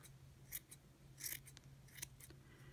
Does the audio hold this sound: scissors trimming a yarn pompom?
yes